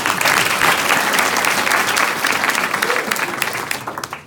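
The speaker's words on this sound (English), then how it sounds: "Surely backbenchers, you can clap." An audience at a hospital staff gathering claps loudly and densely, the applause holding steady before thinning into scattered claps at the end.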